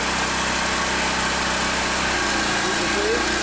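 Pressure washer engine running at full speed with a 6.0 tip fitted and the unloader valve at maximum, a steady close mechanical drone with broadband spray hiss throughout.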